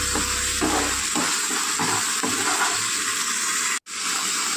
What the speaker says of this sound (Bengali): নুন দিয়েও একটু ভেজে নিয়েছি